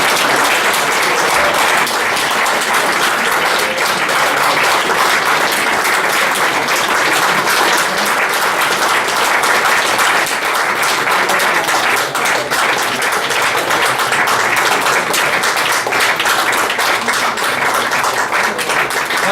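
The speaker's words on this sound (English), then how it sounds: "I ask to the room to really applaud loudly and strongly" A packed room at an awards ceremony, the 6th Calypso Awards in November 2018, breaks into loud, sustained applause, a dense, even wash of clapping that runs unbroken throughout.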